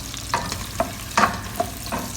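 Onions frying in a pan as chicken feet are cooked, stirred in several separate scraping strokes over a low, steady sizzle, close and moderately loud.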